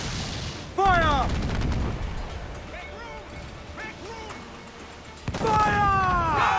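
Ship cannons firing in the pirate game Assassin's Creed IV: Black Flag, two loud booming blasts several seconds apart, each followed by whistling, descending projectile tones, with shouted voices over the battle.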